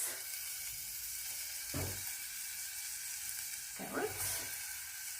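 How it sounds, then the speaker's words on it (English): Onions fry gently in oil in a pan with a soft, steady sizzle, and two brief scraping stirs break in over the low background hiss. "you fry gently for some time, for some minutes, until when you start to see the onions"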